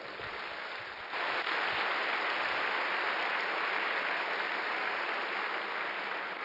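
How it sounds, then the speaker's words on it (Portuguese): Applause from a church congregation during a Sunday service, a dense steady clatter of many hands that swells louder after the first second and holds without talk. "Dê um aplauso a Jesus."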